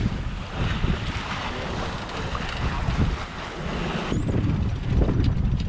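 Open ocean and wind aboard a sailboat under way: a continuous broad rush of waves and wind buffeting close to the microphone, steady throughout with no voices.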